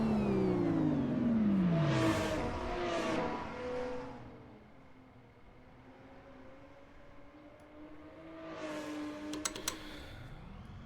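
A Lotus 3-Eleven race car engine in the Assetto Corsa racing game at Laguna Seca revs and shifts up through the gears, fading to a lower hum before building again, with faint clicking near the end.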